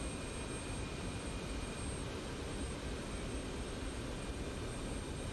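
An F-16CM jet engine runs in the DCS flight simulator, a dense, steady roar with a thin high whine held continuously at close, even loudness and no talk over it.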